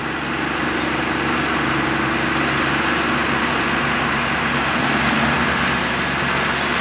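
A John Deere 6830 tractor engine runs steadily in a silage field, a continuous low mechanical drone with no letup and no voices over it.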